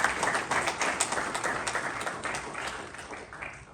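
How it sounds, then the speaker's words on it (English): Audience applause at a fire department promotional ceremony for the Orland Fire Protection District, steady dense clapping from a crowd across the whole stretch, fairly loud and gradually tapering toward the end. "all of you deserve a round of applause."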